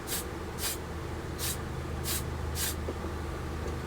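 Five short hissing bursts of black primer from a spray can onto a 1/32 scale Tamiya F-51D Mustang plastic model airplane, evenly spaced over steady room background.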